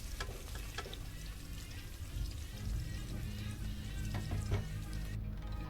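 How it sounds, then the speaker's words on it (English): Chopped onion and green chilies fry in hot oil for a vegetable tomato biryani, giving a steady close sizzle with occasional scraping stirs and small clatters throughout. "Now let this get fried properly until the onions start shrinking and changing the color to transparent."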